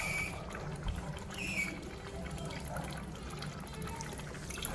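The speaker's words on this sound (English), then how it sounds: "I'm also going to add another water." Water poured into a pot of cooking Nigerian egusi soup, a steady close trickling pour running throughout with faint talk underneath.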